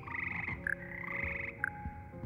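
In the frog room of Hogwarts Legacy, frogs give repeated warbling croaks in short bursts, close and fairly clear, against a low steady hum.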